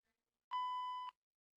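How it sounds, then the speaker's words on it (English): A single steady electronic beep, a clean sustained tone lasting about half a second, alone in near silence. "It sounded like he's beeping."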